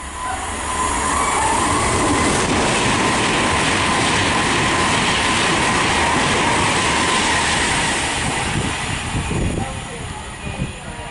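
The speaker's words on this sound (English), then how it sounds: "passing through now, we've got our original liveried Virgin train service from London Euston to Manchester Piccadilly" An original-liveried Virgin train from London Euston to Manchester Piccadilly thunders through Nuneaton station on the West Coast Main Line, a loud, sustained rush of wheels and rail noise that eases off slightly at the end.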